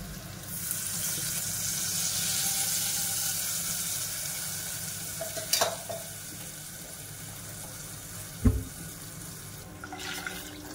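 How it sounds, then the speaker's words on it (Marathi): Hot oil sizzles softly and steadily as a tempering with turmeric and asafoetida is made for a sweet-sour yogurt kadhi, broken by a couple of sharp clinks. "आता आपण कढीला फोडणी दिलेली आहे।"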